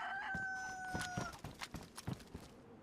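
Rooster crowing then chickens clucking inside a survival video game, a drawn-out crow followed by a string of short, quick clucks, fairly quiet and with no talk over them.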